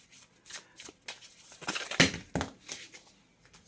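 Tarot cards being shuffled close up, a quick run of soft riffling and slapping bursts with brief pauses between them.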